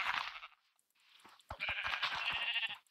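Sheep in Minecraft bleat in a few bursts of wavering, nasal cries, with a short gap and then sharp clicks and thumps from attacks mixed in. There is no talking.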